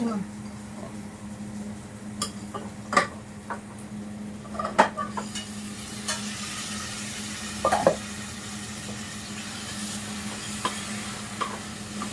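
Mutton mince with fenugreek leaves cooks in a pan on low gas, giving a soft steady sizzle broken by a spoon stirring and scraping, with several sharp metallic clinks against the pan.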